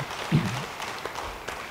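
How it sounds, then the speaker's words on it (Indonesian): A church congregation breaks into brief applause during a sermon, a short diffuse wash of clapping that swells early and then fades to a soft patter. "Beri tepuk tangan bagi dia."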